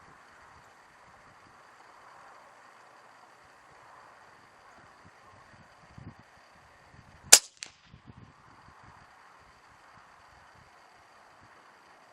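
A single sharp revolver shot from 140 grain ammunition fired at a 50-yard target rings out outdoors, loud and brief against a steady low background hum. A few faint knocks come just before and after the shot.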